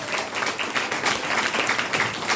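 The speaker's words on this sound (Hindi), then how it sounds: "ताली नहीं मार सकते जोर से?" An audience at a health training program in Bhagwanpur claps steadily throughout, a dense continuous patter of many hands with no pauses.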